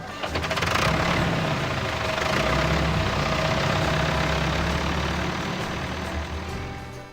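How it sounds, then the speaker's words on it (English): A farm tractor's engine idles close by, a steady low diesel rumble that holds without a break for about seven seconds, with no voices over it. "Tractor."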